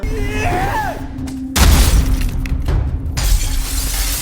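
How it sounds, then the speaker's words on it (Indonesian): Glass window shattering in a Korean survival film, a loud crash and spray of breaking glass cutting in suddenly after a stretch of tense noise and a brief cry, followed by scattered debris and rumble. "berniat akan menghancurkan kaca menggunakan pelakat-pelakat dari gedung itu"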